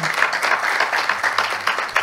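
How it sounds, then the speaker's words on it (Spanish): Brief round of applause from the audience at a round-table panel on contracting law, steady, close clapping from a modest crowd lasting a couple of seconds. "Aplausos, por favor."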